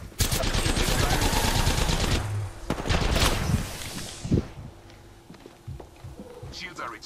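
Rapid automatic gunfire in the Apex Legends video game rattles loudly for several seconds, then tapers into quieter scattered shots and game sounds, with a voice speaking over it.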